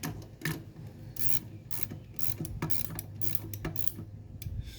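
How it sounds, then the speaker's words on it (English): Ratchet wrench clicks and grinds in short bursts while bolts on a car project are tightened back up, close and fairly quiet, with pauses between strokes and no talking. "I'll tighten these back up."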